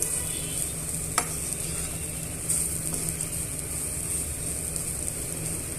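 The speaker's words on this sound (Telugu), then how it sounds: "స్టవ్ మీడియంలో పెట్టుకొని ఇలా ఫ్రై చేసుకోవాలండి" A tempering sizzles steadily in a pan over a medium stove flame while being stirred, with a soft constant hiss and an occasional sharp clink of the spoon against the pan.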